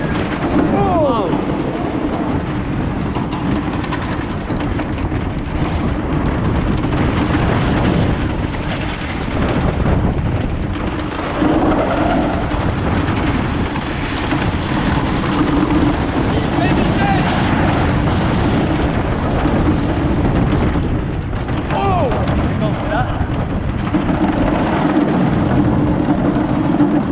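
Riding the Tomahawk wooden roller coaster at PortAventura, a continuous rumbling roar of the train on the track mixed with heavy wind buffeting the microphone, loud and steady throughout with occasional voices.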